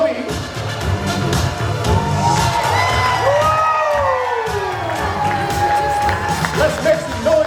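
Wedding reception crowd cheering and whooping, with children shouting and some applause, a loud sustained roar with rising shouts and whistles, a host's voice faintly under it.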